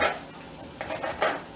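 Raw sausage dropped into a pan preheated on medium for gumbo, giving short bursts of sizzle and a few utensil scrapes over a soft frying hiss, close and brief, without speech.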